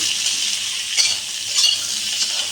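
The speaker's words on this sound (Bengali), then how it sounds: "এটা এখন হলুদ একটু লবণ দিয়ে আমি একটু ভেজে নিচ্ছি।" Pointed gourd pieces fry with turmeric and salt in a pan, giving a steady close sizzle with a few soft stirring scrapes near the middle and end, and no voices.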